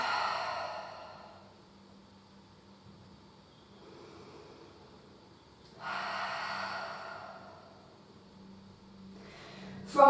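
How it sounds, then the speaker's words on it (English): Deep, slow breaths drawn and released during a live pilates stretch with weights, two long exhales a few seconds apart over a faint low hum, followed by a louder final breath. "just take some nice deep breaths"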